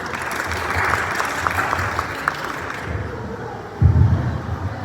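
Audience applause at a Thai university ceremony, a dense steady patter of many hands clapping for a few seconds before tapering off, followed by a low thump and quieter room noise.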